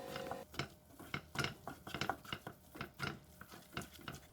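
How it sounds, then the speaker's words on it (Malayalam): Prawns are stirred together with spice powders and marinade in a bowl, giving soft, rhythmic squelching and scraping strokes at a quiet, even pace. "നന്നായിട്ടൊന്ന് മിക്സ് ചെയ്യാം."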